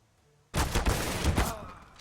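A burst of suppressed M4A1-S rifle fire in a CS:GO tournament match, shooting through a wall, starting abruptly after a quiet moment and running as a rapid string of close shots for about a second.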